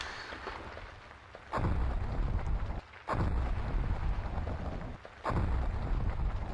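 Volcano eruption in Roblox Natural Disaster Survival, heard as repeated bursts of dense rumbling roar that cut in and out about every one and a half seconds, with quieter gaps between them and no voices.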